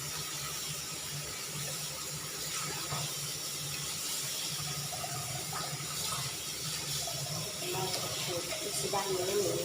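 Tap water runs steadily into a sink while something is washed clean in a Thai home kitchen, a continuous hiss and splash with faint clinks, with soft talk in the background.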